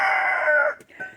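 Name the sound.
cream legbar chickens in a backyard flock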